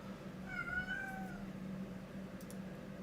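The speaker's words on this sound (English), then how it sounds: "What you're hearing there is my cat Coco" A pet cat named Coco crying with a couple of drawn-out meows, faint and close by over a low background hum, with no talk.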